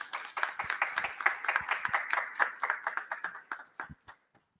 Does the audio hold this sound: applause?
yes